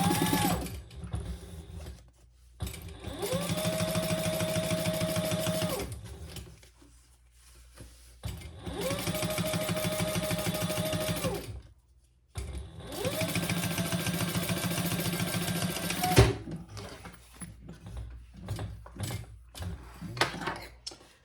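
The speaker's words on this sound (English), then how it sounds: "And we're gonna top stitch." A sewing machine top stitches a fabric waist pack in three steady runs of a few seconds each, separated by short pauses, with the motor whirring close and loud.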